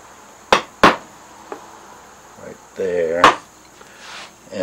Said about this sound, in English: a chisel strike.